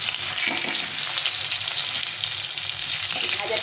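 Mango pieces frying in hot oil, an even, dense crackling sizzle held close throughout with faint stirring and no voices.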